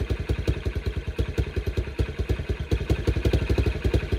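A Kawasaki Brute Force 300 ATV engine idles steadily right after carburetor cleaning, with its choke off, putting out a close, even stream of rapid low thumps with slight clatter. No one speaks.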